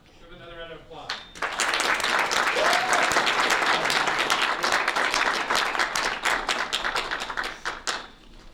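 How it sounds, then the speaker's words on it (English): People at a board meeting give a round of applause. After a brief spoken phrase, close, loud clapping fills most of the clip and then tapers into scattered claps. "Give another round of applause."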